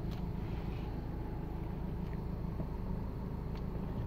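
A Mazda BT-50 pickup engine idles smoothly, a steady low rumble with an even hum throughout, close by and without any voices.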